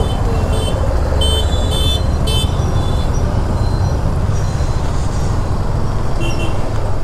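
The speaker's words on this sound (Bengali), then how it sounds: "দেখো কত জ্যাম, কত কনজেস্টেড" A congested, signal-less road jam heard from a KTM 390 Adventure on a monsoon ride near Purulia: loud, constant engine and traffic rumble with several short car horn toots early on and another near the end.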